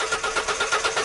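A car engine cranks over sluggishly on a weak, failing battery, producing a steady train of rapid, evenly spaced pulses that continue for about a second, close and moderately loud.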